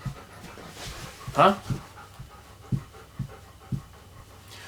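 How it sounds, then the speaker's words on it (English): Puppies panting in short, rhythmic bursts close by, with a person speaking briefly over them. "Puppies."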